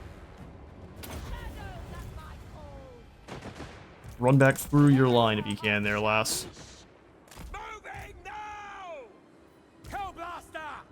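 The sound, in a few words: Hellblaster volley guns firing in the video game Total War Warhammer 3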